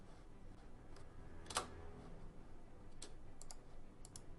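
Computer keyboard keys pressed while drawing line art with the Photoshop Pen tool, a few quiet, scattered clicks with one sharper tap, faint and close in a quiet room, no talk.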